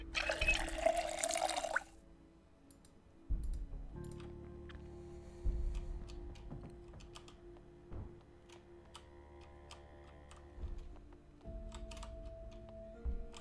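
Filling a water bottle in Project Zomboid: a short splashy burst of running water at the start, then soft clicks and faint interface tones over a low steady hum, no speech.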